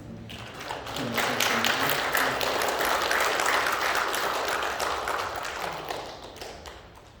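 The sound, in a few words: congregation applauding to welcome a newcomer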